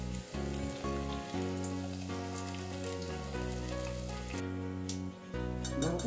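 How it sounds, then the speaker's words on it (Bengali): Bhetki fish fry sizzles steadily in hot oil, a crackling hiss that holds throughout beneath sustained tonal background sound. "এখানে আমার হাজবেন্ড ফিশ ফ্রাই ভাজাতে একটু হেল্প করছে"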